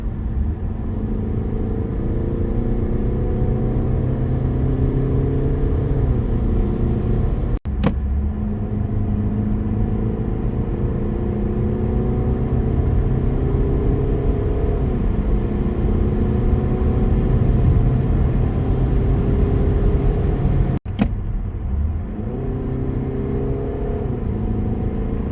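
A Peugeot 308 SW estate with a 1.5 BlueHDI 130 diesel and EAT8 automatic gearbox driving on the road, a steady engine drone and road rumble with gear shifts causing brief dips in pitch.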